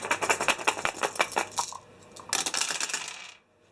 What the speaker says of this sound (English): roll 2 additional dice while attacking unarmed